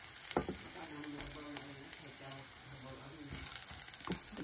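Garlic sautéing in a pan for misua soup, a steady broadband sizzle with occasional stirring clicks and scrapes, close and continuous.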